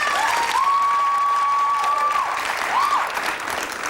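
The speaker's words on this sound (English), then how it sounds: "Let's have a nice round of applause for Margaret." Applause from the audience at the 1987 Cinzano Model of the Year contest greets a model named Margaret: steady, crowded clapping with a sustained musical tone gliding over it.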